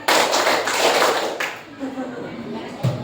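A classroom of students claps together in a counted rhythm, the dense group clapping loud and close for most of the stretch before thinning into a few scattered claps and murmurs.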